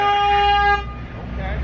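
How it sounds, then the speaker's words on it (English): At a race track, a car horn gives one steady honk lasting under a second, close and loud, before it cuts off into rumbling background noise. "my friends honk the horn at me"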